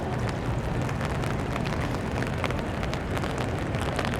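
Steady rain patters on a downtown Toronto street on a cool May afternoon, a dense, even hiss with scattered drops and no voices.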